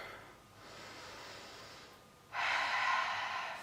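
Slow deep breathing while holding a hip flexor stretch, a long soft inhale followed by a stronger, louder breathy exhale, close to the mic with no talk.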